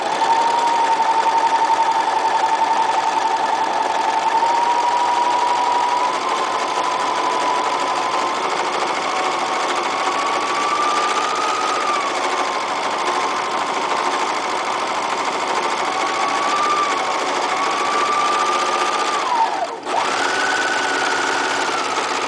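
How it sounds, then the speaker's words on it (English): A sewing machine running steadily and loud up close as it stitches along the edge of a cat blanket, a continuous whirring motor drone that shifts slightly in pitch, with one brief break near the end. "And sewing is a lot like driving because it has a pedal."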